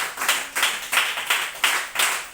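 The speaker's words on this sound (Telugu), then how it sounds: "చప్పట్లు కొట్టు" A church congregation claps hands in time during a Sunday service, sharp, even claps about three per second, loud and unbroken with no talking.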